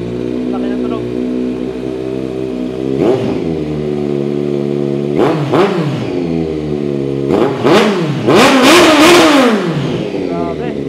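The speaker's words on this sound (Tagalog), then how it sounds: "Sound check natin itong Z900 SE, naka 61mm SE carbon exhaust." Kawasaki Z900 SE motorcycle with a 61mm SE carbon exhaust idling, then revved in several sharp, loud bursts, the last one longest, close by with brief talk in between.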